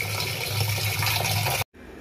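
Tap water runs steadily and fairly loudly as raw mutton is rinsed under it in a home kitchen, then cuts off abruptly near the end.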